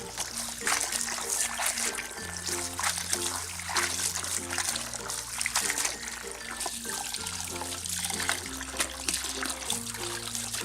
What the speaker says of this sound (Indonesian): selanjutnya pare dibilas lagi dengan menggunakan air dingin